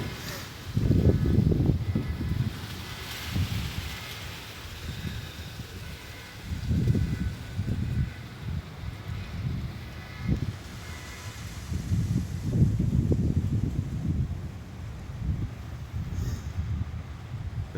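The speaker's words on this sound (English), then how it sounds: "very windy today here in my little stadium" Strong wind blowing through a tree, low rumbling gusts buffeting the microphone in several surges of roughly two seconds each, separated by calmer stretches, loud and close.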